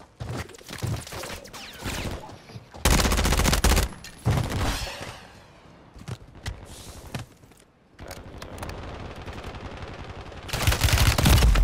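Bursts of rapid automatic gunshots crack out in several loud volleys, broken by short gaps and quieter stretches with footsteps, ending on another heavy burst of fire.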